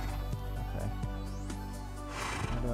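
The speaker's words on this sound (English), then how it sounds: "Oh, why can't I move with this horse? He's not moving." A horse in the Minecraft video game gives a whinnying neigh near the end, preceded by a series of soft, regular clicking steps over a steady background hum.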